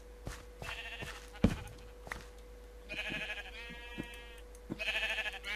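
Sheep in the Minecraft video game bleat several times over a low steady background hum, with clicks and small thumps from play in between.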